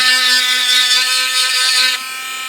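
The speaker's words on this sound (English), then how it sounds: "I put a thick amount of putty, that Bondo putty, I want to get it down to more manageable sanding size" Thick Bondo putty on a 1/700 scale USS Iwo Jima model ship being sanded down with a small power tool, a steady loud whirring buzz that runs without pause and drops a little in level near the end.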